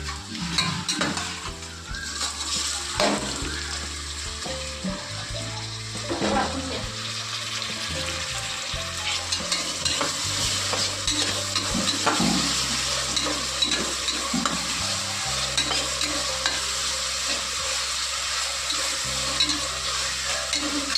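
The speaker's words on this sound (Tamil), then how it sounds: "மட்டன் மசாலா கொட்டணும்" Mutton masala frying and being stirred in a pan for a kudal kuzhambu (intestine curry), with a steady loud sizzle, repeated scraping stirs and occasional clanks of utensil on pan, close up.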